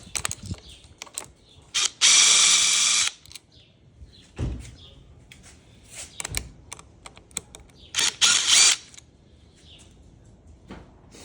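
Ratcheting and clicking mechanical sounds come from loosening a part while installing a Motion Pro Rev 2 throttle on a Yamaha motorcycle, with two longer loud bursts of rapid ratchet action between scattered taps and clunks.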